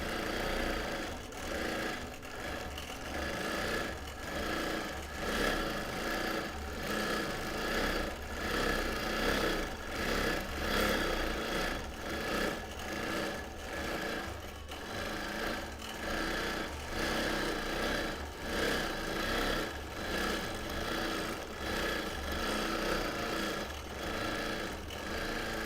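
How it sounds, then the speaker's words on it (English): A Bernina Q24 quilting machine stitches a quilt freehand, humming steadily with a fast repeating needle rhythm that swells and eases, with no talk. "I am quilting on my Bernina Q24."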